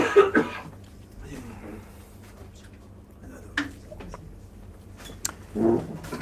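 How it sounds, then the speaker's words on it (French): A few scattered coughs and throat-clearing sounds break through quiet, muffled voices nearby. "Il faut tousser au contraire."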